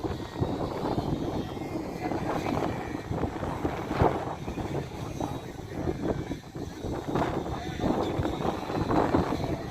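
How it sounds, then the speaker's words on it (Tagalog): Strong wind buffets the microphone at a mountain peak in Infanta, Quezon, in a steady, rumbling roar that gusts louder at moments, with a faint engine-like drone underneath. "napakalakas ng hangin"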